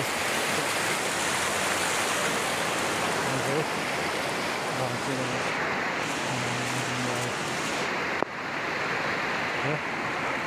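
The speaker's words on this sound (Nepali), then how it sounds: "खोला" A river flows nearby in a loud, steady broadband rush that holds for the whole stretch, with a faint low hum beneath and one brief knock near the end.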